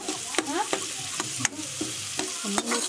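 Chopped onion, ginger and garlic fry in hot oil in a pan for a snail curry, giving a steady close sizzle broken by sharp scrapes and stirs of a spoon about every half second.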